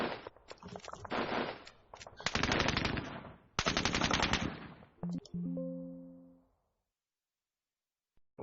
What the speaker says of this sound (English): Fire the rifle.